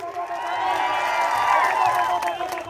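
A crowd at a political rally in Dahod, Gujarat claps and cheers together in a sustained wash of applause that swells and then eases, with no talk over it.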